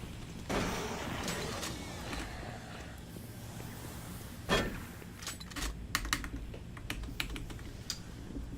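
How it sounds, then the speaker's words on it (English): Computer keyboard clicks and clatter as it is handled, unplugged and plugged back in, with a few sharp knocks and taps over a steady background hum. "Take my keyboard off and put it back on again."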